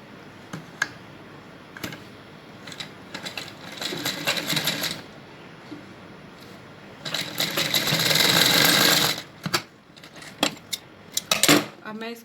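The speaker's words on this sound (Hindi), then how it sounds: "इन दोनों पट्टियों को आपस में मिलाकर मैं इनको सिल दूँगी।" A sewing machine stitching fabric strips for a baby bloomer runs in short bursts, then a longer loud sustained whir, with clicks and handling noises of fabric between runs.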